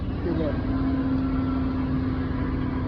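A heavy tractor engine drones steadily at a distance during a farmers' protest in London, a constant low rumble with a faint whine on top.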